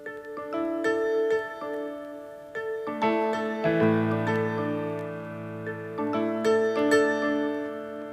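Original jazz vinyl record, side 1 track 3, playing alone: sustained horn and piano chords with a walking low line, steady and full, shifting harmony around the midpoint, no voices.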